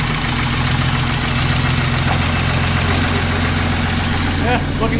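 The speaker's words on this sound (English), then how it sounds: "Let it idle a minute" A BMW E36 engine idles steadily nearby after repair work, giving a loud, even rumble with a constant low hum and slight knocking texture and no change in revs.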